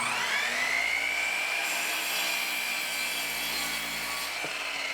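A power saw cuts through a wooden board for sawhorses, a loud continuous whining rasp with a rising-then-steady pitch that holds through the cut and tapers slightly at the end.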